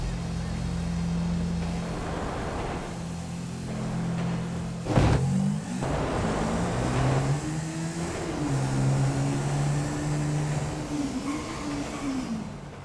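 Two street-racing cars in a driving game, a Sultan RS and a Blade on medium tires, rev and accelerate with rising and falling engine tones and a sharp burst midway, under steady background noise.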